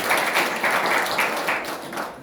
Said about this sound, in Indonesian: Boleh beri tepuk tangan sekali lagi buat Tuhan kita.